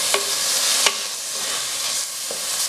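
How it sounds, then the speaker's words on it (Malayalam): Onion, green chilli and ginger sauté in a pan for a Kerala-style prawn curry, giving a steady frying sizzle with a few sharp scrapes and clinks of a spoon stirring against the pan. "എല്ലാം കൂടെ നന്നായിട്ട് വഴറ്റിയെടുക്കുക"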